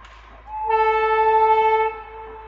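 A train horn sounds on a newly built railway line during a trial run, a loud sustained multi-tone blast lasting over a second over a low rumble of the moving train, with no talk.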